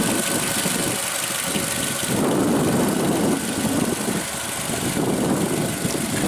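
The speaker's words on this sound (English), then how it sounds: "what really sets this engine apart that differs from the Camry and the RAV4 is the exhaust note" A 2014 Scion tC's 2.5 L four-cylinder engine idles steadily, a low rumbling drone with slight rhythmic pulsing, close and continuous with no voices.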